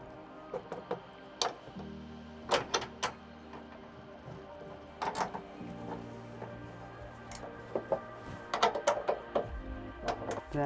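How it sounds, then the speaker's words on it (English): A ratchet tightens a front canopy bracket bolt on a 2023+ Ford Ranger fitted with an Aeroklas hardtop, close metallic clicking in several short bursts separated by brief pauses. "And start with the front bolt first."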